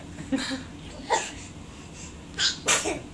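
A single sharp sneeze bursts out in a quiet room near a crib, with a couple of brief softer sounds around it.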